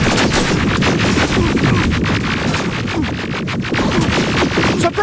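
Sustained, dense gunfire from Terminator: Resistance, a loud continuous barrage of rapid shots layered with heavier blasts, filling the whole stretch without pause.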